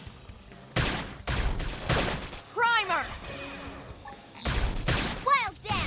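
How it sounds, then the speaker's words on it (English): Rapid gunfire bursts from the video game Xenoblade Chronicles X crack loudly in several volleys, mixed with energetic weapon effects and chiming tones while a player talks excitedly over the action. "Topple him with some gunfire."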